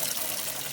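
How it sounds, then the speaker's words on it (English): Warm water pours steadily into a cleaning bucket, a continuous close splashing rush that fills the whole moment without talk. "then you add your warm water"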